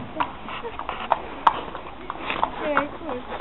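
Hooves of a pony clip-clop at a slow walk outdoors, a few soft, irregular hoof strikes close by, with people chatting over them.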